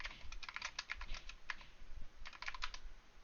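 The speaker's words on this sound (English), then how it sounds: "I'm typing it now" Someone types on a computer keyboard in quick clustered bursts of clicking keystrokes, heard close and soft, with no talking.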